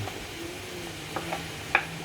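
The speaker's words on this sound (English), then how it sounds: "off the chopping board here comes the bacon" Bacon tipped into a hot pan for pasta sauce, a soft continuous sizzle with a few light clinks and stirring scrapes, close and alone.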